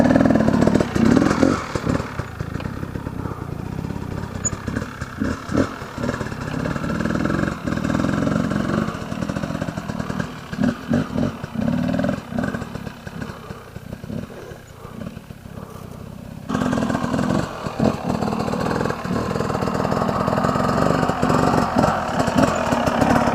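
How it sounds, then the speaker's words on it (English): An enduro motorcycle ridden on a trail section of a master enduro class, its engine droning steadily throughout and rising and falling with throttle changes, fairly close and continuous, with no talk. "I'll just ride it, you can remember where it goes"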